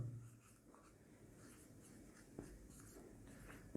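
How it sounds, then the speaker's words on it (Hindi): An example is written on a board in quiet, brief scratching strokes with a few soft taps, faint and close, with no talking. "अब हम इसमें अगला उदाहरण लिखेंगे लंबोदर।"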